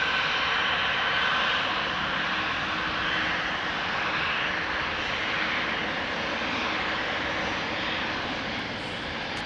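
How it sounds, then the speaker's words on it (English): A Qatar Cargo Boeing 777 freighter, eleven years old, departs Amsterdam Schiphol with a loud, steady jet roar that holds unbroken and close for several seconds, with no voices. "8206 going to Doha, 777 freighter, 11 years old"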